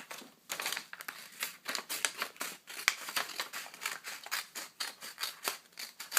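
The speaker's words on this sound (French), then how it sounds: "nous allons la découper en deux. Je vous conseille de le faire avec une paire de ciseaux" Scissors snip repeatedly through a sheet of origami paper, cutting it in half with close, crisp rhythmic crunches at a steady pace and no talking.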